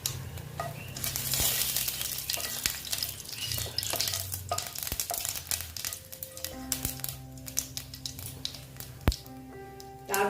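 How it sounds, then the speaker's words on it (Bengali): Bay leaf and cumin seeds sizzle and crackle in hot oil as a tempering for a koi fish curry with potato and cauliflower, with steady close frying, occasional stirring scrapes and some clinks across the stretch. "এবার আমি ফোড়নে দিচ্ছি তেজপাতা তারপরে দিচ্ছি সাদা জিরে"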